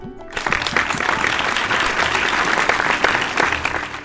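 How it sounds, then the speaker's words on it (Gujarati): An audience at a 75th anniversary celebration applauds warmly for the current president, a dense, steady clapping that starts abruptly and holds at full strength without a break. "બધાની જોરદાર તાળીઓ સાથે વધાવીએ મુકેશભાઈને"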